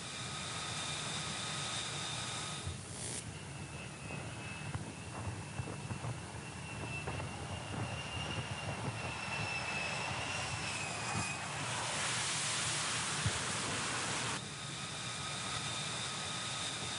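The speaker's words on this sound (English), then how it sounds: "This is the first trap of the F-35C on the USS Nimitz." An F-35C jet roars loudly and steadily while making its first arrested landing aboard the aircraft carrier USS Nimitz, the engine noise continuous with a whining tone and a brighter surge near the end.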